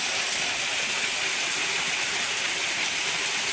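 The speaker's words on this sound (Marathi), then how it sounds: "भारी धबधबा आहे." A heavy waterfall rushes in a steady, dense roar that fills the whole stretch without pause, loud and close, with no voices over it.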